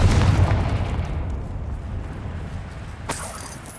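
A Confringo spell explodes in a video game with a loud, deep boom that decays into a rumbling tail, followed by a brief crackling pop near the end.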